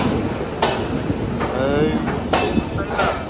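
A train pulls out of Katpadi, heard from inside an AC coach: a steady rumbling roll along the rails with periodic clunks and rattles, voices murmuring underneath.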